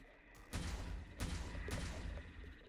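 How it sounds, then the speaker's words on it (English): Fireworks-like explosions in the video game Devil Daggers, three fairly loud booming bursts spaced about half a second apart, each with a crackling rumbling tail, no voices. "Pretty little fireworks."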